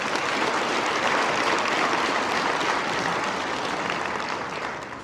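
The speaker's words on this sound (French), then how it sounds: "Bonne main d'applaudissements, s'il vous plaît" A crowd at an agricultural hall of fame awards ceremony in Quebec applauds, dense sustained clapping from many hands that holds steady for several seconds and then begins to fade, with no speech.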